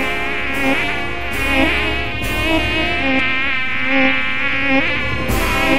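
A swarm of mosquitoes whining loudly and continuously, overlapping high-pitched buzzing tones that rise and fall as they drift near, with no speech.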